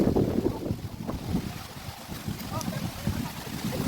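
Strong wind buffeting outdoors during a Philippine Independence Day gathering, a loud gusty rumble across the microphone with voices talking underneath.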